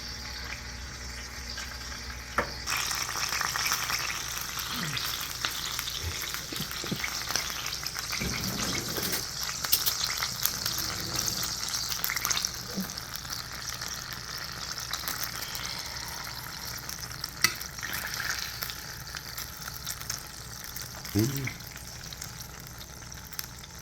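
Meatballs sizzle and crackle steadily in hot fat for a long stretch, a dense hissing spatter with occasional clinks and stirring noises.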